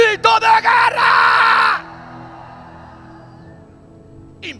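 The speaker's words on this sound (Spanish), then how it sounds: "¡Dame un grito de guerra!" A church congregation lets out a loud collective battle-cry shout, a burst of overlapping yells and whoops that swells for under two seconds, then fades into a quiet room tone.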